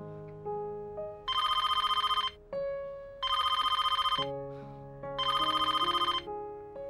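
A telephone bell rings in three long bursts separated by short pauses, loud and close, alone over a domestic room backdrop with no talk, as a household line goes unanswered.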